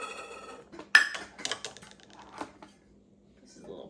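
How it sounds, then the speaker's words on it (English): Small metal pans from a children's toy cooking set being handled, with a sharp clink followed by several lighter rattles and taps in a quiet room, close and fairly soft. "You have your little pans."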